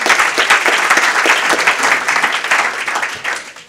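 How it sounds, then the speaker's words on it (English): A live audience at a 2012 climate change consensus-building event breaks into loud, dense applause that holds steady for a few seconds before tapering slightly, with no speech over it. "Okay, thank you very much. Round of applause."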